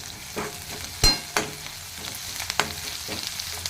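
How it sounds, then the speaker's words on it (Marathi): Sliced onions fry with curry leaves in hot oil for an ivy gourd vegetable dish, a steady sizzle broken by several sharp scrapes and clinks of a spatula stirring the pan. "हलवत राहायचं कडीपत्ता टाकून घेऊया"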